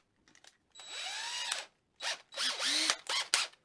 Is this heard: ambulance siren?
no